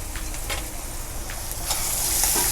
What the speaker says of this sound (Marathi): आता हे छान परतून घ्यायचं आहे सगळा मसाला।